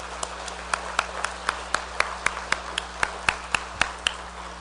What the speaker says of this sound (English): let's give a big round of applause for all of our presenters